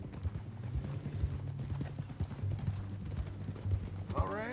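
Horse hooves clip-clop in Red Dead Redemption II, a steady close walking rhythm of hollow knocks with low ambient rumble beneath and a brief whinny-like sound near the end.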